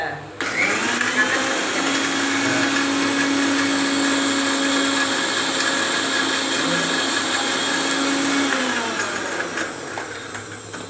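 A mixer grinder whirs loud and steady as it finely grinds soaked ingredients for buttermilk curry, starting abruptly and running for several seconds before winding down near the end.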